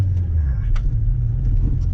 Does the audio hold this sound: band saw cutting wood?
no